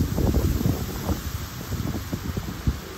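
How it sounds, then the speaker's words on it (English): Strong wind gusts buffet the microphone in a windy palm-tree setting, with a rough, fluctuating roar that surges and eases across the few seconds. "Another gust coming."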